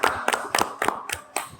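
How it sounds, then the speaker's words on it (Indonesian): Several short bursts of hand clapping from a small group at a school podcast recording, coming in uneven clusters and fairly close, with no talking over them. "tepuk tangan untuk kita semua"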